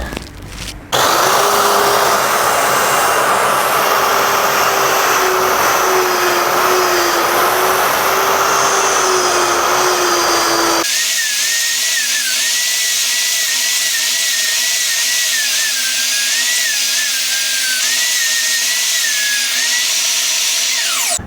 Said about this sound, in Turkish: Bu kenarı zımparada düzleştireceğim